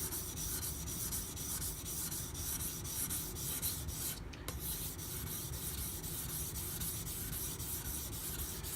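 A Karaku bunka kitchen knife of Aogami Super steel is ground steadily on a sharpening stone under light hand pressure, giving a continuous, close, even scraping rasp with a brief pause in the middle.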